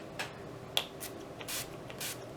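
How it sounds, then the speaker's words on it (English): Several short hissing bursts of NYX matte finish makeup setting spray, soft and close, spaced unevenly with quiet gaps and light handling noises between them. "So I'm taking this NYX matte finish makeup spray"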